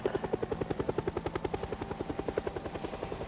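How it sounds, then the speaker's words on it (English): A helicopter in the video game Project Zomboid, its rotor chopping in a fast, steady rhythmic thump, fairly loud and sustained, with no talk over it. "Friend Chopper is coming in for another ride."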